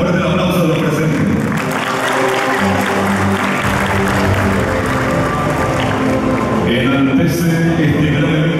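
Audience applauding at the official opening of the AgroShow Copronar 2023 agricultural fair, welcoming a national congressman; a dense, loud wash of clapping runs steadily throughout with music or background tones underneath.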